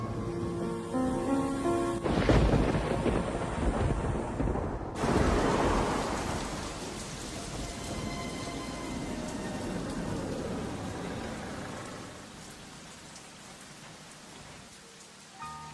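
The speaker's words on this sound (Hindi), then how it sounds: "जब बारिश की बूंदे ठंडी हवा के साथ मेरे चेहरे को छूती है" Steady heavy rain pours throughout, with a loud rumbling crash of thunder early on that slowly rolls away beneath the downpour.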